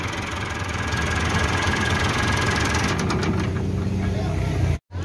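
A 2018 Massey Ferguson 385 tractor engine running steadily after valve repair, a loud continuous diesel drone with a rhythmic low knock, close by, cut briefly near the end.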